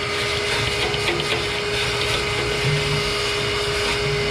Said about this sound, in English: you want to vacuum out the actual burn pot right down in here